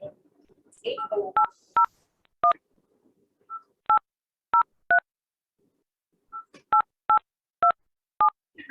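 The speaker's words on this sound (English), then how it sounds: "Max, what is your phone number? We're going to transfer to Max." Telephone keypad tones sound as a number is dialed to transfer a call on an emergency call-handling system: about a dozen short, crisp beeps in two quick runs, after a brief voice at the start.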